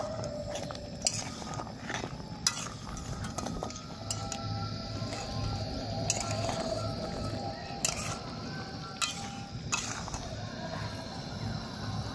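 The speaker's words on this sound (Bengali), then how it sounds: "এবার আমি মিষ্টিটাকে চিনি শিরার সঙ্গে ভালো করে মিশিয়ে নেব।" A utensil scrapes and clinks against a pot while flour sweets are stirred in sugar syrup, with scattered close metallic taps and knocks over a low background hum.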